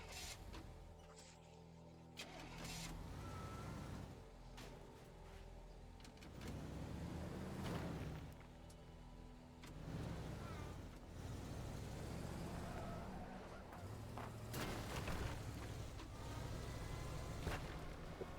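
A truck engine in the video game Teardown drones steadily through a long stretch, with scattered mechanical knocks, hisses and clunks over the top. The whole thing sounds faint and somewhat distant.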